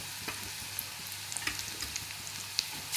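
Crushed ginger and garlic sauté in a pan with a soft, steady sizzle, broken by light, scattered clicks of stirring; fairly quiet, with no voices.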